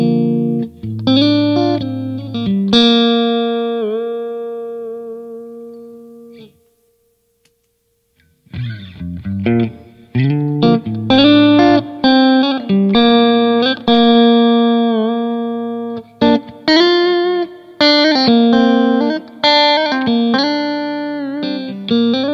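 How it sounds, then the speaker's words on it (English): An electric guitar plays through a Dane Classic 30 amp with a Roadrunner Echoline pedal adding boost and chime: bright ringing chords and picked notes with sustain, a brief pause near the middle, then more strummed phrases, loud and clear. "So let me start demonstrating that for you by using the Roadrunner Echoline pedal right here. I'm using this for a bit of boost and some lovely chime."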